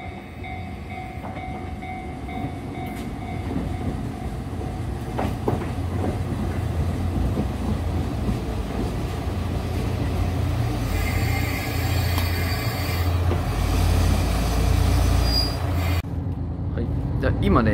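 A JR Hokkaido local train on the Soya Line to Wakkanai runs with a steady interior rumble and faint rail clatter, loud and continuous, as someone talks quietly over it.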